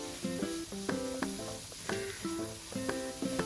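Vegetables with yellow and green capsicum fry in a pan over a medium gas flame for veg fried rice, giving a steady sizzle throughout with some tonal sounds running through it.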